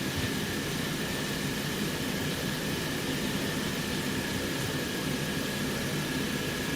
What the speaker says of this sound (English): so now fans blowing